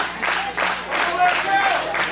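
Wrestling crowd at a CWF Mid-Atlantic tag tournament show cheering and clapping in steady rolling waves, a broad roar filling the arena throughout.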